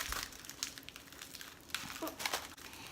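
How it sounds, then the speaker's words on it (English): Tin foil and a foil pie plate being crumpled by hand into a ball for recycling, a close, continuous crinkling with a few sharper crackles. "Crumple up tin foil and pie plates into a ball."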